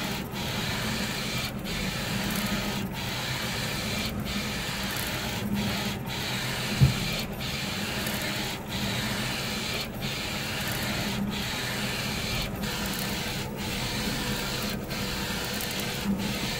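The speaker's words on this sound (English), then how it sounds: "This is the DTGM2, printing an almost 16 by 24 inch image." Direct-to-garment DTG M2 printer printing a large image about 16 by 24 inches, a steady mechanical rubbing whir from the moving print carriage, broken by regular short pauses as the head reverses, with one sharp knock partway through.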